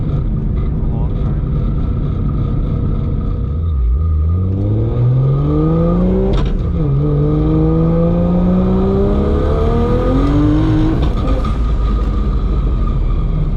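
A loud, Barra-powered Ford Mustang GT350 with a PPG sequential gearbox roars in the cabin as it accelerates and rises through the revs, with several sharp no-lift gear shifts dropping the pitch.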